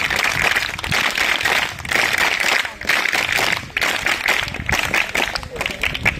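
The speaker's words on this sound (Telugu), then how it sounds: "అందరూ క్లాప్స్ తో ఆహ్వానించాలని కోరుతున్నాం" An audience at a school event claps to welcome a guest, a dense continuous burst of applause lasting several seconds with short dips, close and fairly loud.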